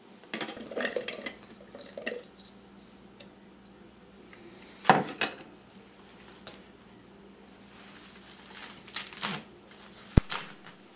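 Chopped onions and garlic are dropped into a bowl for a quick salsa: scattered soft thuds and light clatters, a sharper knock midway and one crisp tap near the end, all close and separated by quiet gaps.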